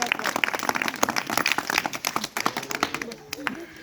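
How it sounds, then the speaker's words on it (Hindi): Audience claps after a recited patriotic couplet, a ragged run of distinct individual hand claps, close and uneven, thinning out toward the end, with a low voice briefly audible underneath. "तालियां।"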